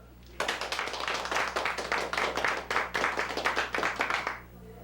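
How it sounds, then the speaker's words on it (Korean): Soldiers of a Korean army division clap together at a small party honoring a sergeant's 30 years of service, a dense burst of rhythmic hand claps starting abruptly, sustained for several seconds, then stopping. "축하를 위해서 박수."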